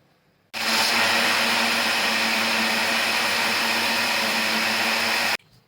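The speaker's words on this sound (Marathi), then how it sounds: "आता हे मिक्सरमध्ये" A mixer grinder blends watermelon juice with a little sugar in a steady, loud, continuous whir that starts abruptly, runs for about five seconds without pause, then cuts off.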